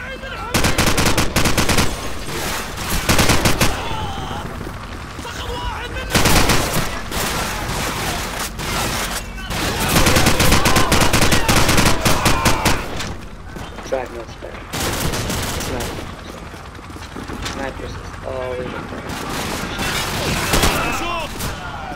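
Sustained bursts of AK rifle fire in Call of Duty 4 Modern Warfare, loud and close, with overlapping gunshots and battle noise from other weapons packed densely, briefly dropping away between volleys.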